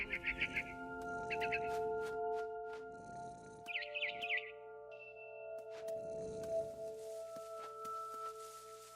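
Small birds chirp and tweet in short bursts within the game What Remains of Edith Finch, set over a steady tonal music bed with a few soft thumps.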